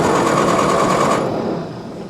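The engine of a 1946 David Brown aircraft tug cranks over with a little choke: a fast, loud, rhythmic chugging for about a second that then fades off without catching.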